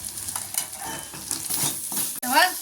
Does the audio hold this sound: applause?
no